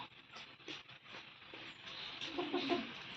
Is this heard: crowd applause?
no